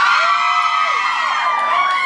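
Audience screaming and cheering at a live talk event, a loud, close wall of high-pitched shrieks and whoops that holds steady throughout.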